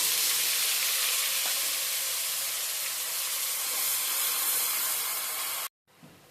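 Onion paste hitting hot oil tempered with spices in a pan for a homestyle katla fish curry, a loud, steady, close sizzling hiss that runs unbroken and then cuts off abruptly near the end.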